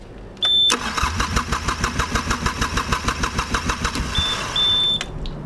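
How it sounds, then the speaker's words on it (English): A marine diesel engine on a yacht cranks steadily with a rapid, even starter chug for several seconds but never fires, loud and close with no talking. "Another problem you can come across is that the engine turns but doesn't fire."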